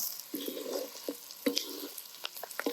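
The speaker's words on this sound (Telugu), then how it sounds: "కర్మాకి వేసుకొని ఒక 5 నిమిషాలు మళ్ళీ ఫ్రై చేసుకుందాం." Chicken pieces fry with curry leaves in an oil-filled pan, giving close, steady sizzling and crackling broken by short bursts of spattering and a few stirring scrapes.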